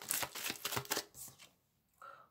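Tarot cards being shuffled and drawn for a monthly Capricorn reading: a quick run of dense papery riffling and flicks, fairly close, then a short quiet gap and a soft final card sound.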